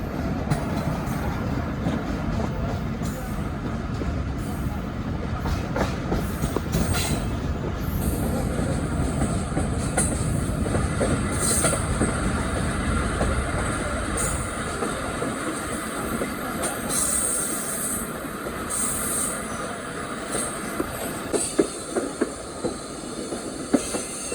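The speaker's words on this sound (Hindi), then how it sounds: "हम लोग अराइवल कर रहे हैं जी गुजरात रेलवे स्टेशन।" A passenger train arrives at Gujrat railway station in Pakistan, rolling in with rumbling wheels and clattering cars, then slowing as squeals and clanks ring out near the end.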